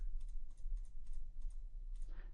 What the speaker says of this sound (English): I'm just clicking through here to select